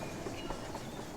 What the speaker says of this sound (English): I can speed the train up.